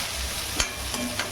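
Onions sizzle steadily in a pan while being stirred, with a few soft scraping strokes over the constant frying hiss, close and fairly quiet.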